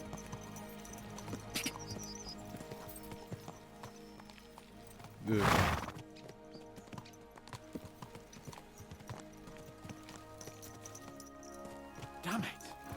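Horse hooves pound along at a gallop under a low background, with a loud whoosh midway and a brief spoken word near the end.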